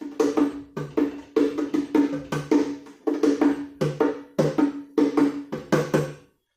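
Two small conga-like hand drums tuned high and low, struck in quick repeating patterns of slaps and tones, close and lively, with no talking.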